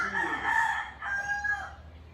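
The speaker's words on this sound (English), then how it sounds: "just as the rooster crows" A rooster crows twice in a row, a near, loud cock-a-doodle-doo followed by a second shorter call, heard alone without talk.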